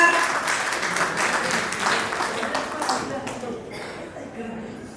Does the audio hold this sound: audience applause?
yes